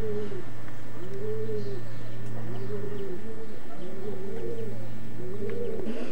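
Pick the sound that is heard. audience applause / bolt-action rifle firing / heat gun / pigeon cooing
pigeon cooing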